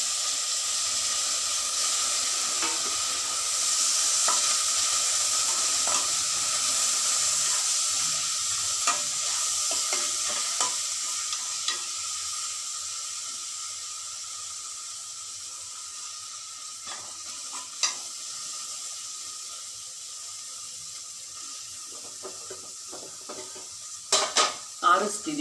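Avalakki (poha) with sugar and fresh coriander leaves stirred in a pan on the stove, a soft steady sizzle under scraping and occasional clinks of a spoon against metal, louder taps near the end.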